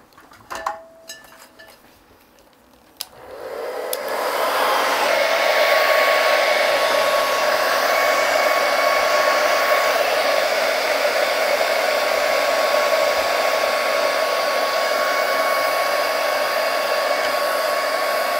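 After a few seconds of light clinks and handling noise, a hair dryer switches on loud and close, blowing steadily to dry a spring-tree painting and running unbroken to the end.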